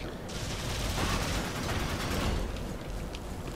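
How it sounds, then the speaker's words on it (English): Dense, continuous gunfire in the video game Warframe while the character slides, a loud sustained barrage of rapid shots filling the whole stretch without pause. "You can also slide while shooting or shoot while sliding."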